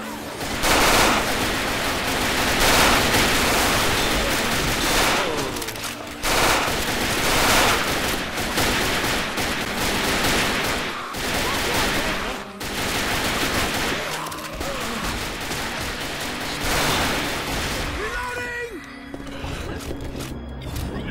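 Sustained, loud automatic gunfire from a Left 4 Dead zombie-survival game, with dense rapid bursts running nearly continuously and only brief gaps, plus faint mechanical clicks and creaks.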